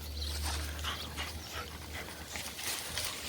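Dogs moving and snuffling around close by, with soft whimpering sounds over a steady low hum; no clear barking.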